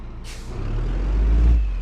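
A sharp air-brake hiss bursts out from a bus in a video game, followed by a deep, rising engine rumble that swells and then eases off.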